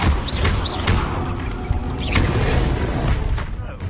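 In Hogwarts Legacy, an Expelliarmus disarming spell is cast: a loud magical whoosh with booming, clattering impacts and a couple of swishing sweeps, no speech on top.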